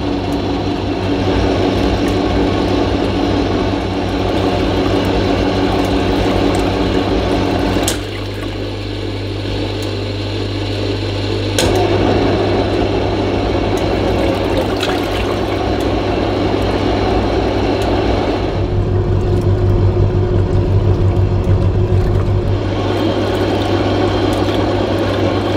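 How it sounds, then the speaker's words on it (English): A Tefal Washboy portable washing machine starts up for its final rinse, a steady motor hum with sloshing water that shifts in pitch as the drum changes direction, running close and alone without talk. "right on cue, the washer will start up again"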